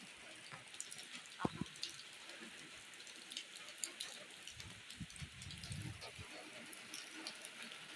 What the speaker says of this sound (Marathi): मस्त पावसाचा आवाज असल्या ते बघू शकता